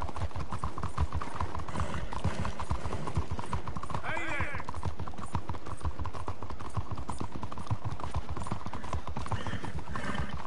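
Horse hooves clip-clop steadily through a town in the Red Dead Redemption 2 video game, with a brief whinny partway through and someone talking over the rhythmic trot.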